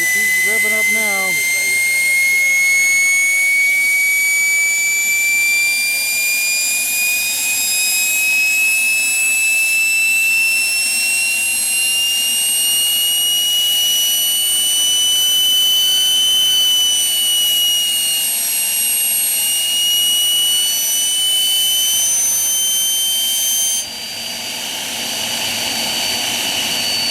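A loud homemade jet engine built from a turbocharger whines steadily, its high-pitched tone slowly rising as it spools up, with a brief low rumble at the start.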